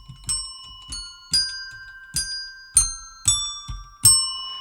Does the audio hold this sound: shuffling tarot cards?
no